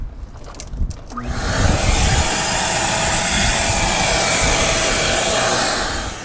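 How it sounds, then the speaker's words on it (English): A loud, steady motor whine starts after a second of clatter and holds constant, a vacuum cleaner running up close with no talking. "you turn on your vacuum and it goes away"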